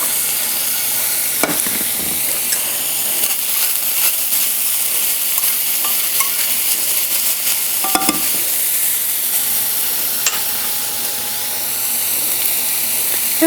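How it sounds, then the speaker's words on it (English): Chopped shallot sizzles steadily in a hot pan as a sauce gets started, a continuous close frying hiss broken by a few sharp stirring scrapes and clinks. "And I just want to saute that pretty well."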